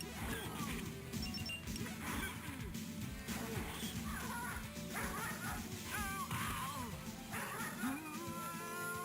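Dogs bark and snarl in a video game fight, with crashing hits and yelps layered over continuous game music and effects, busy and loud throughout.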